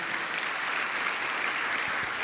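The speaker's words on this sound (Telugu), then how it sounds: "గట్టిగా చప్పట్లు కొట్టి దేవుని మహింపరచండి." Loud, dense applause from a church congregation, a continuous roar of many hands clapping at once, steady and sustained throughout.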